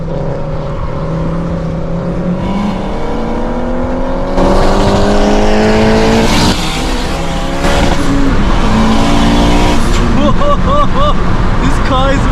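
Tuned 700bhp Honda Civic with a K20 engine accelerating hard, its engine note climbing repeatedly through the gears, loud and close, with sharp gear changes and brief voices inside the car.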